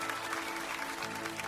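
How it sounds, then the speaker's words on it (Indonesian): A congregation applauding during a church service, a dense and steady wash of clapping that fills the whole moment at moderate volume. "Beri tepuk tangan untuk Tuhan Yesus."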